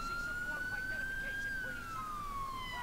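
A police siren in GTA IV wails in one long, steady sweep, its pitch climbing slowly and then easing back down against a constant background hum.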